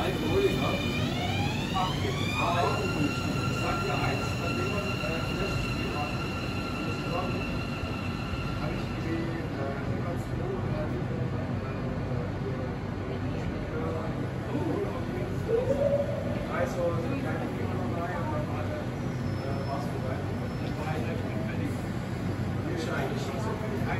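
A train departs Donauwörth station to an electric motor whine that rises in pitch at the start, followed by a long, moderate rolling rumble with faint wheel squeals over station ambience.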